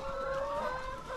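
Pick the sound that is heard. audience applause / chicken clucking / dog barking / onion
chicken clucking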